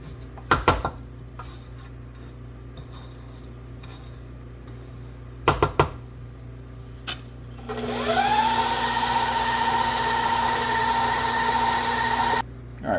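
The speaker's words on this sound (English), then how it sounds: "then we're going to let it mix for another 3 minutes in 5th gear" A stand mixer beats pound cake batter at high speed in a kitchen, whirring up to a steady loud hum after scattered clatters of utensils and bowl knocks, then cutting off abruptly.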